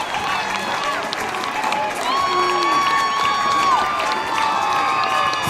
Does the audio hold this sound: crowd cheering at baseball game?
yes